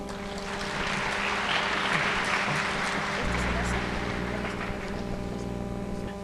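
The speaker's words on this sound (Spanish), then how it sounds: "Le damos un fuerte aplauso, por favor." Audience applause at a medical conference on metabolic syndrome, steady dense clapping filling the hall throughout, over a low hum from the room.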